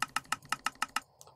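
Seven evenly spaced, crisp keypresses on a computer keyboard as the down arrow key is tapped repeatedly while playing Minecraft, close and clear with no talk, followed by a softer faint click.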